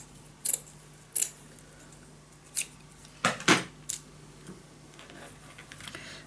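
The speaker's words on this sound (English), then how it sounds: "So let me cut this a little shorter" Scissors cutting paper for a handmade mini album, a series of sharp, crisp snips spaced roughly half a second to a second apart, close and clear against a quiet room.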